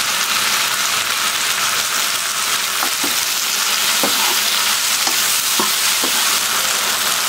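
Oil poured around pachadi sizzles steadily in a pan, a dense continuous frying hiss with a few sharp stirring clicks and scrapes near the middle and end, close and fairly loud, no voices.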